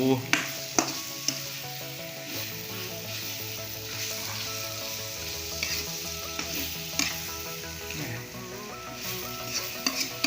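Spicy pork stir-fried in a pan for a northern Thai dish, a loud constant sizzle with frequent clanking and scraping of a spatula against the pan throughout.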